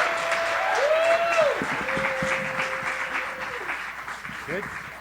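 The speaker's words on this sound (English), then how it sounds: "Applause, our supportive applause." A live storytelling-slam audience in Los Angeles claps warmly, dense applause that fades gradually while a voice speaks over it.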